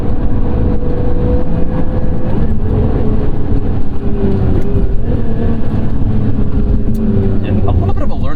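A car engine runs steadily and loud throughout while driving with heel-toe downshifts and some rev changes, traction control active, with continuous road and engine noise.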